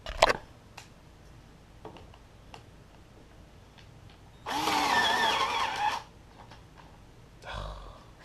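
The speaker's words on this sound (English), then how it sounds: "Hate this drill. It never works." A cordless drill whirs up in a short high-pitched burst midway, then briefly again near the end, between scattered clicks and knocks.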